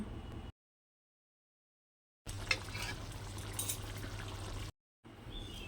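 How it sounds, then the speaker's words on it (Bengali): Water poured into a pan of potatoes with poppy seeds for aloo posto: a close, steady liquid rush and trickle that breaks off into short stretches of dead silence between the bursts, with no talking. "জল ঢেলে দিলাম যতটা দরকার আলু সেদ্ধ হওয়ার জন্য"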